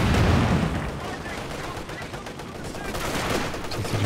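Gunfire and anti-tank gun shots in a Company of Heroes 2 2v2 match: dense, continuous battle noise with rattling small-arms fire and heavier thumps throughout, fairly loud and steady.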